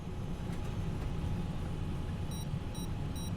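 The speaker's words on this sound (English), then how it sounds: "the sound of an alarm suddenly fills the cockpit" A cockpit terrain warning alarm sounds aboard a Polish Air Force flight on approach: three sharp, evenly spaced beeps ring out late, over a constant roar of engine and cockpit noise.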